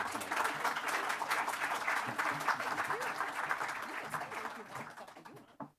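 An audience at a jubilee speech event applauds the speakers with sustained, even clapping from many hands that holds steady, then thins and fades out near the end.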